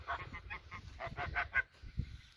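Toulouse geese honk in a quick rhythmic series of nasal calls at a farm, fairly close and moderately loud, then a final lower honk after a brief pause.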